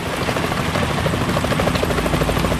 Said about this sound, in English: Is that a chopper I just heard?